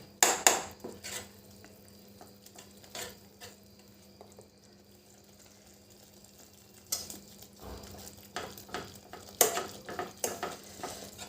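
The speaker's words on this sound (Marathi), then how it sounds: "बेसन पीठ जवळ घ्यायचं आहे आणि आपल्याला थोडं थोडं त्यात टाकायचं आहे आणि असं अगदी पटापट हलवायचं आहे" Gram flour is stirred quickly into simmering liquid in a pot on low heat, a quiet bubbling hiss under bursts of spoon scrapes and clanks against the pot, busiest at the start and end.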